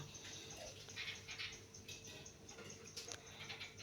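Spice-laden water from a rinsed blender jug is poured into a cooking pot, giving a soft, steady liquid splashing and trickle, faint and continuous with brief brighter splashes.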